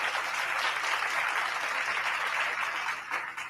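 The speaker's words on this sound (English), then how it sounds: "Clap it up for Lil Wayne." Steady applause for Lil Wayne fills the space, a dense wash of clapping hands that holds level and fades slightly near the end.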